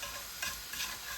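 Sugar being stirred in a hot pan gives a soft, steady sizzle with two brief scraping swells, quiet and close, with no voices.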